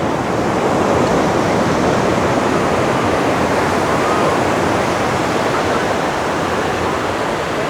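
Ocean surf at busy Seminyak Beach in Bali roars continuously, with waves breaking in a loud, dense wash of noise that fills the whole clip.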